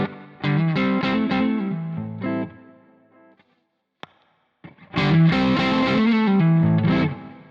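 An electric guitar through a distortion pedal with its control set halfway plays two loud, gritty chord phrases separated by a near-silent pause, with a brief click in the gap.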